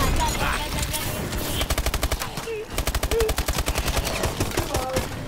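Rapid automatic gunfire in Call of Duty: Advanced Warfare Exo Zombies on Xbox One, loud bursts of fast repeating shots with a short gap midway and game effects underneath.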